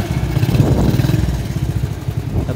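A 1976 Honda C70 motorcycle engine runs close by, a loud, steady low putter with fine rapid pulsing and a slight clattery edge.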